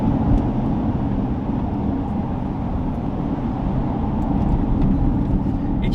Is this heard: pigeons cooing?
no